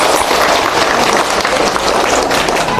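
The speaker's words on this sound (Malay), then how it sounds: "Tepuk tangan untuk anak-anak SD." Dense applause for primary school children fills a school hall at a Maulid Nabi religious gathering, steady and fairly loud with crowd noise mixed in, lasting the whole moment.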